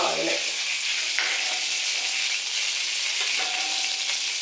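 Curry leaves frying in hot oil while a chicken chutney is made, giving a steady, close sizzle and crackle throughout, with a few brief stirring scrapes and no talking.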